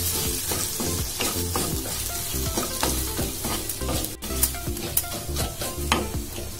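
Spices sautéing in hot oil in a pan for karuvadu kuzhambu, a dense continuous sizzle broken by rhythmic scraping stirs of a spoon against the pan, close and loud with no voices.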